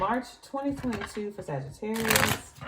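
Tarot cards are shuffled in quick riffling bursts beneath a person speaking continuously, with the papery flutter growing louder toward the end.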